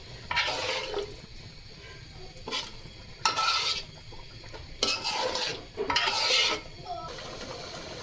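Meat for biryani is stirred in a metal pot, with repeated bursts of sizzling and scraping strokes about a second long each, separated by quieter simmering gaps.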